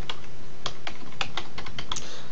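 A computer keyboard is tapped in a short run of crisp, close keystrokes, roughly a dozen clicks in an uneven rhythm as a folder name is typed, with no talking.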